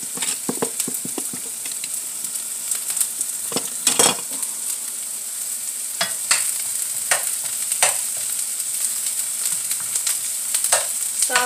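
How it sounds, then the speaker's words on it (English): Onions frying in a pan as the base for sauerkraut, a steady bright sizzle with repeated clinks and scrapes of a utensil stirring through them, close and alone with no talk. "I like quite a bit of onion. In my sauerkraut."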